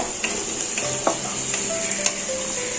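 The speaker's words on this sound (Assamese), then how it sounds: "পিঁয়াজ অলপ দি পেলাই ভালদৰে লৰাই দিছোঁ" Onion stirred and frying in a pan, a close, continuous sizzle with scattered scraping and clinking of a utensil against the pan.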